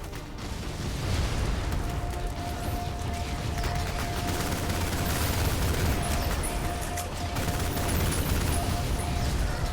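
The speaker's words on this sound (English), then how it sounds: "the machine gun barely does anything to this thing" A machine gun firing continuously in the first-person shooter Ion Fury, a dense, loud barrage of rapid shots mixed with game explosions and mechanical noise that runs without a break.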